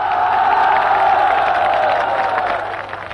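A large crowd of demonstrators massed in Tiananmen Square, up to the steps of the Great Hall of the People, makes a dense, steady roar of voices and cheering that holds loud throughout and eases slightly at the end.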